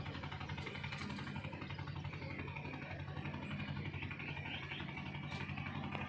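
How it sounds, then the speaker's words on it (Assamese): A motorised fishing boat on the Brahmaputra near Bogibeel bridge, its engine chugging in a steady, even drone heard from some distance, fairly faint and unbroken throughout. "এখন মেচিন নাও আহিছে।"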